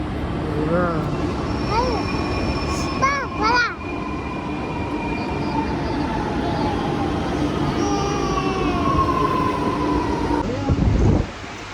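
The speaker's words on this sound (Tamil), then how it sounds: "அந்த வருது பாருங்கள் இந்த ட்ரெயின் தான் நம்ம போக வேண்டிய ட்ரெயின்" A metro train arriving at a station rumbles and whines steadily nearby, with rising and falling electric motor tones and a brief squeal near the end, under a busy station hum.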